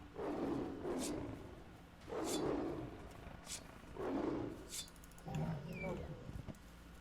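Big cat creature in the Rocktropia video game giving four loud roaring growls spaced about two seconds apart, each swelling and fading, with game sounds between them.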